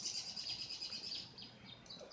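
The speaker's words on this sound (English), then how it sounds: "Some birds fighting" Birds fighting, heard as a cluster of high, rapid chirps and twittering calls with quick repeated notes, fairly faint and somewhat distant over quiet background, with no talking.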